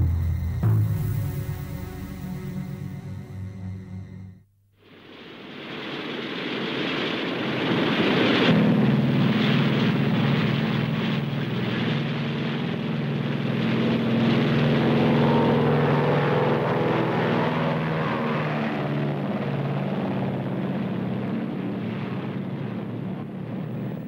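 A B-29 Superfortress bomber flies in 1947, readied to carry the X-1 in its bomb bay. After a brief lead-in, a loud, steady propeller-engine drone rises and holds unbroken, with some wind rush.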